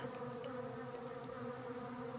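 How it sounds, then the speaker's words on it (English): Many wasps buzz together near shaly rock, a faint, steady droning hum that fills the whole moment without a break and with no one talking. "You can hear all the wasps."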